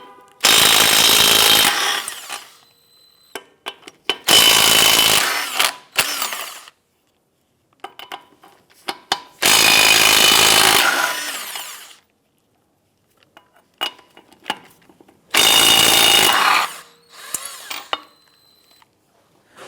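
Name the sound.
power tool with 21mm socket loosening and removing car lug nuts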